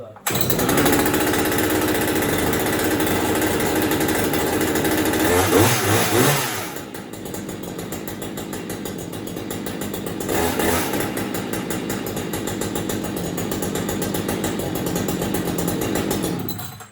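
A Husqvarna 562xp chainsaw runs loud and close, revving at high speed, then dropping to a rough, sputtering idle after about six seconds before revving up again briefly and settling back into a steady running drone.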